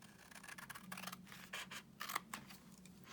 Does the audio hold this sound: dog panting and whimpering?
no